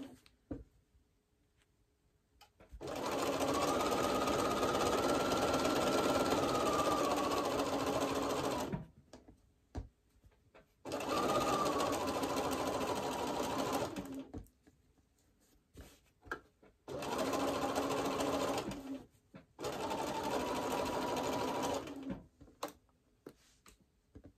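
A sewing machine stitches a seam on a scrappy quilt of Tilda fabrics in four separate bursts of steady, fast whirring, each a few seconds long, with short quiet pauses between them.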